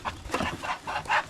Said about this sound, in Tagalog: Mga manok na.